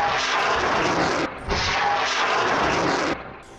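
Rockets are fired from launchers toward IDF forces in Gaza, producing a loud, continuous roaring whoosh that breaks off briefly and then resumes, with no talk.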